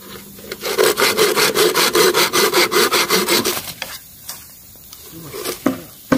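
A hand saw cuts through bamboo in a test cut, with about fifteen quick, even back-and-forth strokes for nearly four seconds, then stops, followed by a few scattered knocks and handling sounds, close and loud.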